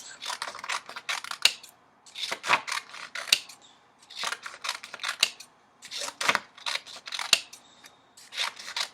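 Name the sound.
scissors cutting colorful paper into strips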